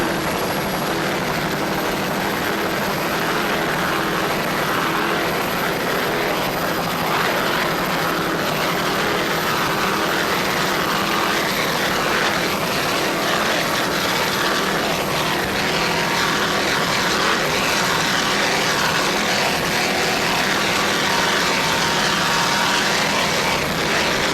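Offshore racing powerboats at the 1994 Maxon offshore grand prix, including a 32-foot B-class superboat, roar in one unbroken, loud engine drone with a whining high edge, likely heard from an overhead helicopter, with no pauses.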